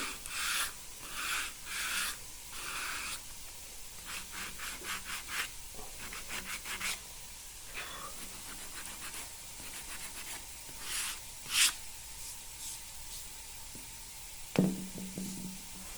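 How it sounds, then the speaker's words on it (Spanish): Rhythmic back-and-forth rasping of 60-grit silicon carbide sandpaper on alabaster in short bursts, with pauses and a couple of sharper knocks toward the end. "estoy utilizando una lija de grano 60 de carburo de silicio"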